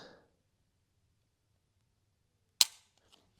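A single sharp metallic click of a Desert Eagle .44 Magnum trigger being dry-fired, close and crisp in near silence after a brief soft handling rustle.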